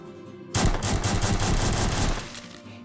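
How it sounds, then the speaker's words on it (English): Gunfire in the VR game Deadly Burrito: after brief quiet, a loud, dense burst of rapid automatic shots runs for about two seconds and then tapers off. "Something shooting at me."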